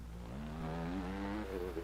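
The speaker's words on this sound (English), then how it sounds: "How is the dirt bike sounding for you guys? Sound is not too loud for the motorcycle?" A dirt bike engine in the Scum survival game drones at a moderate distance, a steady buzzing tone that rises slightly in pitch as the motorcycle accelerates, fairly quiet and alone without talk.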